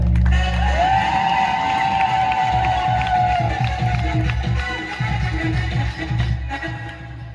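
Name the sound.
audience applause and ululation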